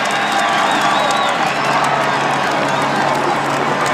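A dense crowd cheers along the main street of Luchon during the 2012 Tour de France, a loud, continuous roar of voices and whoops with a faint whistle rising over it.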